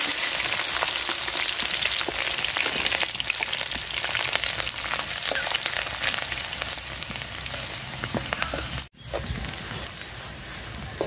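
Green chili and onion fry in hot oil in a pot, giving a loud, steady sizzle with crackling pops and occasional stirring scrapes, briefly cut off near the end before resuming.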